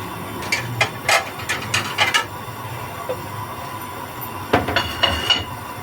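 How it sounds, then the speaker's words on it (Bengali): A wooden or silicone spoon stirs an egg and carrot sandesh mixture in a pan on the stove, giving soft, irregular scrapes and light knocks against the pan over a steady background hum. "কাঠের চামচ বা এই ধরনের একটি সিলিকনের চামচ দিয়ে আপনি নাড়তে থাকবেন"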